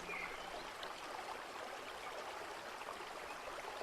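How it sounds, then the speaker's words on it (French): Steady rushing water pours continuously, a dense even splashing with no voices. "Le bruit d'une cascade."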